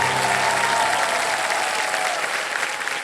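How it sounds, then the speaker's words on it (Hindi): Studio audience applause on a television quiz show fills the space with dense, sustained clapping from a large crowd, loud and even throughout. "Big hand for everybody"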